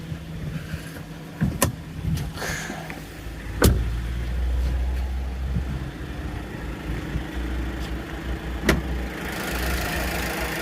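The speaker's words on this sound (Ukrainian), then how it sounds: "Працює все суперово, двигун на холодну, ідеально." A cold 2019 Jeep Compass Limited 2.4 MultiAir engine idles steadily with a low, continuous rumble, broken by a few sharp clicks and knocks; no one speaks.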